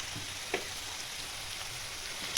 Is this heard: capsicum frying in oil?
yes